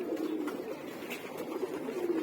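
Pigeons coo softly and steadily while feeding at a corn-growing backyard, a low continuous murmur of overlapping calls with no talking.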